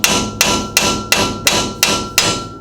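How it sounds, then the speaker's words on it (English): Hammer pounding the flat spot on a 1970 Pontiac GTO suspension part to jar the ball joint loose: seven loud, close metallic blows at an even, steady rhythm, with no talking. "that little flat spot right there is made to pound on and jar it loose."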